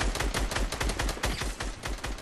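Gunfire in the video game Fortnite, a fast run of sharp, evenly spaced bursts of shots, close and loud for the whole moment, with no talk.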